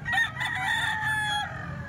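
A gold broodstag rooster about eight months old crows once, loud and close, in a single sustained call lasting about two seconds.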